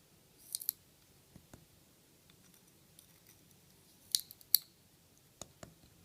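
Quiet scissor snips cut silica wick for a dual vape coil build, a few small crisp clicks in scattered clusters against a low, faint background hum.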